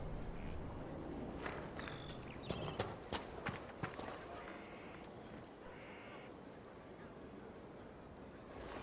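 Ferelden horses in the video game Dragon Age: Inquisition, with faint hoof clip-clops and a few soft thuds over a quiet ambient bed; a voice speaks at a distance.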